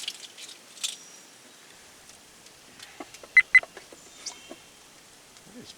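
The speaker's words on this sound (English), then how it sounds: "What is beeping over there?" A camera in a kitchen gives two quick, fairly loud electronic beeps against a quiet room with faint rustling, with a few soft clicks and handling noises before and after.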